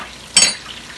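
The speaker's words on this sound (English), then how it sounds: "I'm still frying more chicken" Chicken frying in a pan gives one short, sharp burst of sizzling spatter, loud and close, then fades back to a softer background fry.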